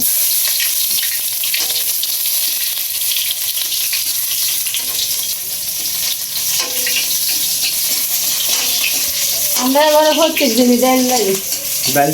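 Fish head frying in oil with dried chilli, bay leaf and chopped onion, a steady loud sizzle with stirring and clatter, and a voice speaking briefly near the end.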